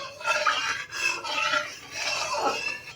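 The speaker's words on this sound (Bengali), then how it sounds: "এবার খুন্তি করে আমি একটু সরিয়ে নেবো কড়াইতে" A metal spatula scrapes around a kadai of heating oil, making close, repeated rasping strokes that run steadily for a few seconds without a break.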